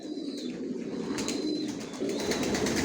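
Racing pigeons, grizzle breeding pairs in a loft, give soft, low, repeated cooing at close range over quiet background noise, with faint chirps mixed in.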